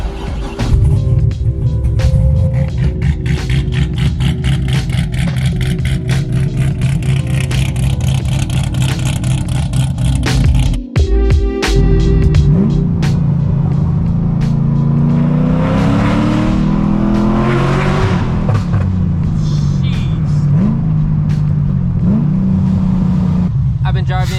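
A 2006 Corvette Z06, an analog-era sports car with a choppy idle, drives along with a loud, rumbling engine drone and rising and falling revs under steady in-cabin talk.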